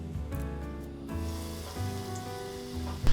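Lamb and vegetable rolls frying in an apartment kitchen, a bright close sizzle under a low steady hum, swelling and easing in bursts with a brief loud crackle at the very end.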